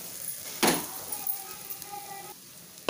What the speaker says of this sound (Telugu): ఒక 5 నిమిషాలు బాగా వేగాలి